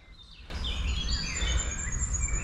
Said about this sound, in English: you just hear the birds chirping